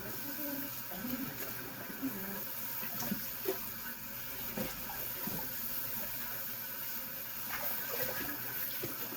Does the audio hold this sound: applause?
no